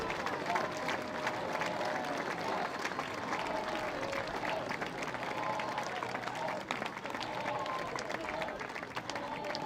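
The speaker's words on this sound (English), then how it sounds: "Give them a big cheer, please." A crowd at a youth touch rugby gold medal ceremony applauds and cheers for the France team, a dense, steady wash of clapping that holds at even strength throughout, with voices mixed into the noise.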